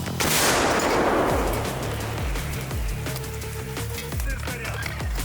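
A heavy artillery gun fires a shell near the start, a broad booming roar that slowly decays into rumbling echoes and clattering background noise.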